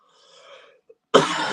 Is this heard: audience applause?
no